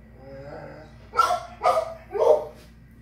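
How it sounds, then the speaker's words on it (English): A dog inside a house barks three times, loud and close, in a quick, evenly spaced series with low background hum between the barks. "He has a dog."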